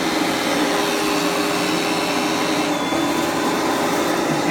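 A Panasonic Jet-Flo MC-6225 upright vacuum cleaner runs at full power, a loud, constant motor roar with an airy whine that stays unbroken throughout, with no voices over it.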